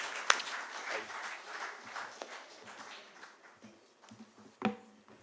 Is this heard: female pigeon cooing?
no